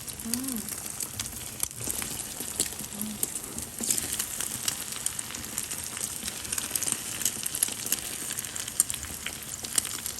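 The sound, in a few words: salted eggs frying in oil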